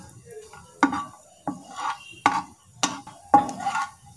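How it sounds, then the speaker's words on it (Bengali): Cashew nuts fry in hot oil in a frying pan, with a soft sizzle and sharp spatula scrapes and clinks against the pan coming in a regular rhythm about every half second. "কাজু বাদামটা আমি প্রথমে ভালো করে একটু ভেজে নেব।"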